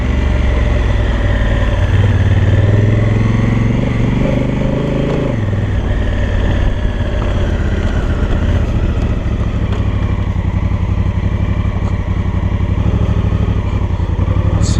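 An old twin-cylinder Honda motorcycle riding a dirt trail: loud, continuous engine drone throughout, with the pitch dropping partway as it slows, then a steady rumbling ride close to the microphone.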